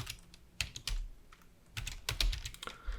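Quick, irregular clicks of typing on a computer keyboard, close up, in bursts with short pauses between keystrokes.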